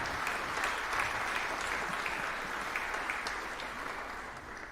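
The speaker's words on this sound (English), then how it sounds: "an applause to Karendra Devrop" Sustained audience applause at a classical strings competition finals, a steady dense wash of clapping from a large seated crowd lasting throughout, fairly distant and even in level with no talk over it.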